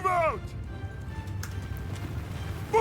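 Cavalry horses gallop in the video game Mount & Blade II Bannerlord, a rapid, continuous drumming of hooves mixed with rumbling battle noise. Short voiced calls sound at the start and end.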